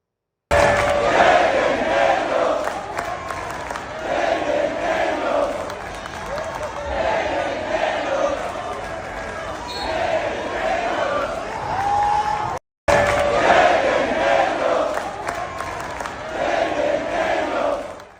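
A large football stadium crowd roars and chants in a loud, sustained swell, broken by one abrupt cut, with someone talking over it.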